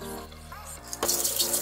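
Running tap water gushes and splashes as 130 g of clams are scrubbed and rinsed. A quiet moment comes first, then a short, close burst of flowing water.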